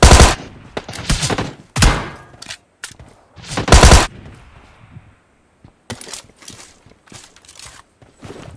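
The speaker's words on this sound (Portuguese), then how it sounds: "Os caras dando tiro nos outros, tá ligado?" Loud bursts of video game gunfire at a military base, rapid automatic volleys and single cracks, come in clusters separated by quieter gaps, close and harsh.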